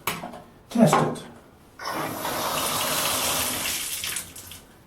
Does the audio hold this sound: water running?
yes